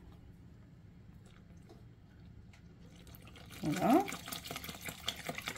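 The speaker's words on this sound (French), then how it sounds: "Donc on va vider le litre de lait dans la cuve" A litre of milk pours into a cooking tank in a short, splashing burst near the end after a quiet stretch, with a brief spoken word over it.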